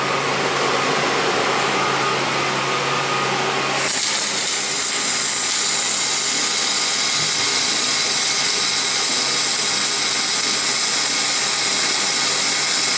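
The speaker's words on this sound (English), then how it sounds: "it gives you a nice flat weld, and since there's no slag entrapment, there's no reason not to." Welding on a steel industrial towing bumper: a steady, loud hissing, crackling drone that holds unbroken, with a brighter, harsher tone kicking in partway through, close and without talk.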